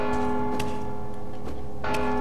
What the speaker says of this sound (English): What's this guy ringing the bell for?